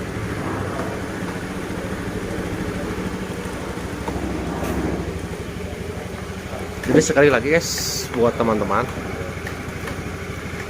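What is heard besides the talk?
Honda Beat motorcycle engine running after restarting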